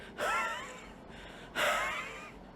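A voice imitates asthmatic wheezing from a narrowed airway: two strained, whistling inhalations, each with a high squeaky tone, separated by a short pause.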